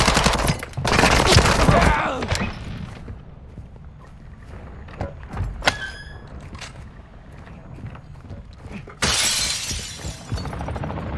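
Gunfire in the Modern Warfare Warzone 2.0 DMZ video game: loud bursts of automatic fire and sharp shattering impacts at the start and again near the end, with quieter scattered shots, clicks and faint radio-style voices between.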